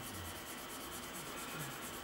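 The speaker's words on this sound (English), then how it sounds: "we're polishing more than sanding" Clear plastic canopy from a Tamiya 1/32 F-16CJ kit being polished with fine abrasive, giving a steady, soft, close-up rubbing hiss that continues without a break.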